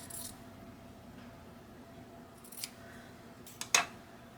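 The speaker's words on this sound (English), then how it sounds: "I'm going to cut this at a diagonal." Scissors snip through fabric cut on a diagonal for an orange rag quilt, a few short crisp cuts near the end of an otherwise quiet stretch.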